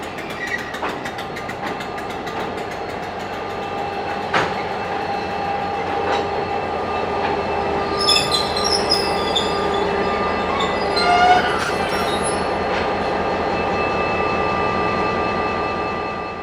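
A train hauled by two KiwiRail DFB diesel locomotives, 7010 and 7348, passing close by with a loud sustained engine drone, rolling wheel noise and high squeals from the wheels and rails.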